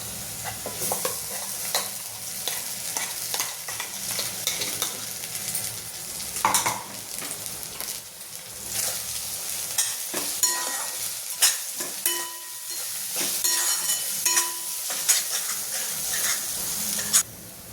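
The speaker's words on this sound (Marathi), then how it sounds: "त्याच्यात आता आपण हे तुरीचं सोल्याचं वाटण टाकायचं" A paste of ground pigeon pea pods sizzles and fries in a pan as a spoon stirs and scrapes it repeatedly, close and steady over about eighteen seconds with no talking.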